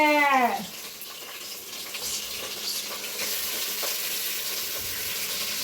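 Chicken leg pieces frying in a pan at home, a steady close sizzle that sets in right after a brief chime at the start and keeps hissing evenly, with faint clatter beneath.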